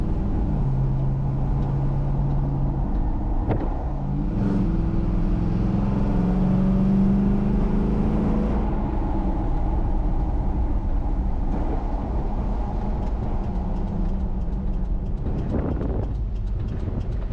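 An LS2 V8 with a 6L80e transmission, fitted in an early 79 series ute, drives along with a steady, fairly loud engine hum and road rumble, its tone rising briefly as it pulls through gears.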